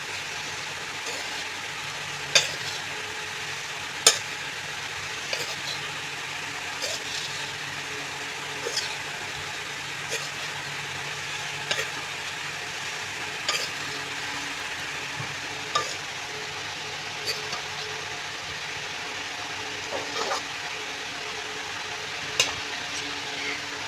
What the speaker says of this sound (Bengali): ভাতগুলো ঢেলে দিয়েছি, এবার একটু নেড়ে চেড়ে দেবো।